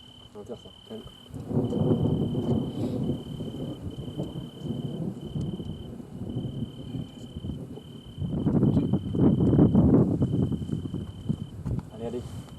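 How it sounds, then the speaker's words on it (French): Rain and rumbling thunder in a Western-themed video game, a steady wash of rainfall with two heavier surges of low rumble, while people talk over it. "Ah, il pleut."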